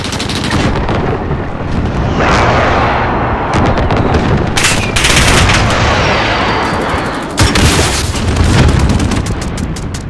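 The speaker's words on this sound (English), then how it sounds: "Friendly precision airstrike inbound." Precision airstrike explosions and gunfire in Call of Duty: Modern Warfare team deathmatch, a continuous loud barrage of booms and rapid shots with sharp bursts throughout.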